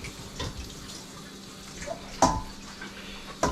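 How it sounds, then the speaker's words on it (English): Water rinses out a colander at a kitchen sink while a spiral Christmas ham and scalloped potatoes are prepared, a low steady stream with two sharp clanks near the end. "rinse out your colander"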